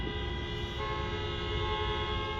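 A car horn sounds in a long, sustained blare along a cold street, steady and fairly close over a low rumble of traffic.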